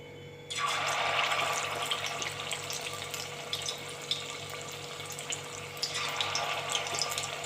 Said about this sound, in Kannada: ಈ ಚಿಕನ್ ಮ್ಯಾರಿನೇಟ್ ಆಗಿದೆ ಈಗ ಎಣ್ಣೆ ಕಾದಿದೆ ಇದನ್ನು ಎಣ್ಣೆ ಒಳಗೆ ಹಾಕ್ಕೊಂಡು ಫ್ರೈ ಮಾಡ್ಕೊಳ್ಳೋಣ